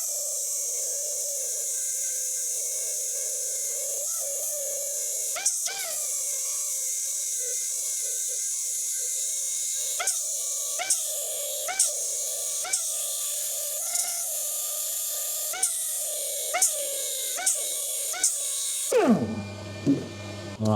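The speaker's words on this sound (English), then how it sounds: "Now before I do any belt sanding, I need to put an apron over the ways" A belt sander grinding a 17-4PH stainless steel barbell on a lathe, a steady loud high whine running unbroken, punctuated by brief scraping accents, before the motor abruptly winds down near the end.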